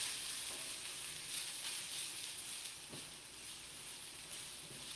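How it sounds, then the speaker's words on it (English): Steady, soft sizzling of onions frying in a pan, a constant hiss with a few faint clicks and stirring scrapes. "They're sizzling great."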